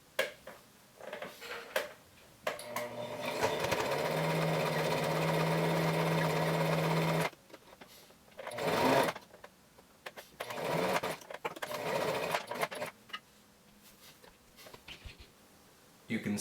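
A sewing machine stitches over the tie of a fabric face mask in one steady run of several seconds, then gives short bursts between pauses while a person speaks nearby.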